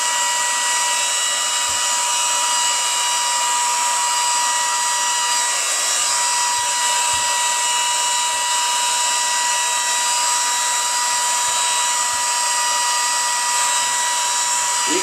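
A hot air blower runs to warm wool when putting lanolin back into it. It makes a loud, steady whooshing whine that holds even for the whole stretch, with a few faint low knocks beneath.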